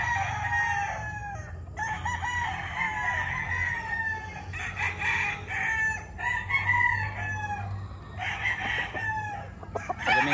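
A bulik gamecock rooster at a Filipino gamefowl farm crows repeatedly, loud and close, with clucking between calls over faint low background noise.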